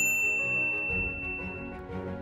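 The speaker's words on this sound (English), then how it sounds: "ring the bell to be notified about our latest videos." A notification bell gives a single bright ding, its clear tone ringing on and fading over steady background music.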